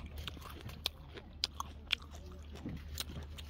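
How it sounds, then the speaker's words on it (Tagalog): Someone bites into freshly picked red seedless grapes, giving several sharp, crisp crunches and clicks spread over a few seconds, close to the mouth, with soft chewing and faint outdoor ambience between them. "Okay, isang kagat."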